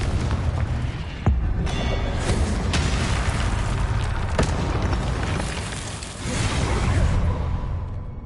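A Confringo explosive spell blasting in a Harry Potter video game, heard as loud, dense booming bursts with whooshing, one after another, over a constant roar of game noise.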